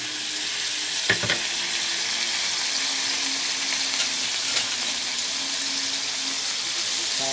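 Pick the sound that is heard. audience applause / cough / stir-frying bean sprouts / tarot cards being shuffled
stir-frying bean sprouts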